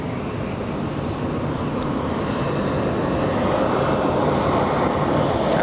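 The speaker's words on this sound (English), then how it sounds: "All right, Dreamliner coming in." A United Boeing 787 Dreamliner comes in to land at Los Angeles International Airport, its engines a constant, fairly loud jet roar that builds slowly and steadily, with no voices.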